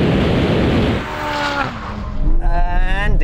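A Chevrolet Corvette launches in a drag race against a Ferrari 458 Speciale with its tyres struggling for grip. A loud engine roar climbs steadily in pitch as the revs rise, with a second engine note joining near the end.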